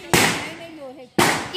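Two loud, sharp firecracker bursts go off close by at a Dussehra fair, one near the start and one near the end, with a voice sounding briefly in between.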